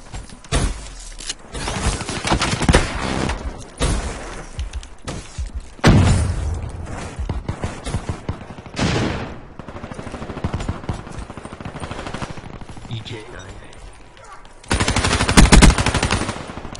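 Dense gunfire from Call of Duty Black Ops 3, with rapid automatic bursts, single shots and thuds in near-continuous loud, clipped bursts throughout.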